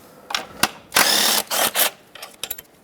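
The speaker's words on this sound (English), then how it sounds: "Now let's unbolt the 6 13mm bolts that hold this intake on." Ratchet wrench loosening 13mm intake manifold bolts on a 2010-2017 Chevrolet Equinox, giving close, brisk clicking bursts with a few longer continuous ratcheting runs in between, no talking.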